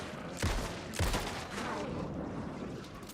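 Video game gunfire, two sharp close shots in quick succession followed by a lingering noisy tail and background game ambience.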